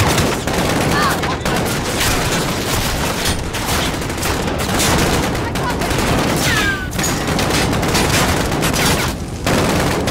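Relentless gunfire in Call of Duty: Modern Warfare, loud overlapping bursts and automatic fire forming a continuous battle din throughout.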